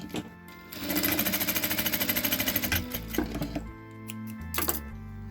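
Sewing machine stitching fabric in a rapid, even burst of needle strokes, close and clear, then slowing into a few separate mechanical clunks and stops.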